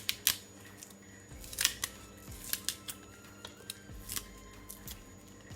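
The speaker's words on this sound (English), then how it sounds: "I'm just gonna add just a small amount of fresh thyme and scallion to my gravy, okay? I'm just gonna cut it all up." Knife cuts through fresh thyme and scallion on a cutting board while preparing gravy for smothered turkey wings, giving irregular sharp close chopping taps spread across the clip with no talk.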